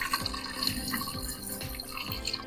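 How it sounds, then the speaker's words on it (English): Pre-mixed antifreeze pours into the coolant system of a Ford Transit Connect during a cambelt and water pump job, a faint, steady trickling of liquid with no talk. "just top up with the antifreeze"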